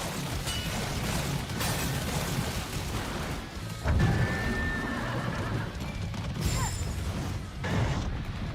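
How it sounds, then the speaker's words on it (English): A horse in the video game Stellar Blade neighs and whinnies over steady clip-clop hooves and a constant rumbling game backdrop, fairly loud and continuous for several seconds. "Sounds like a horse."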